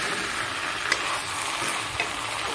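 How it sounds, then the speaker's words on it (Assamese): Colocasia stolons with dried fish, salt and turmeric frying in a pan give a steady close sizzle, with a couple of brief stirring scrapes and no talking. "এইখিনি অলপ ভালদৰে এতিয়া ভাজি ল'ম।"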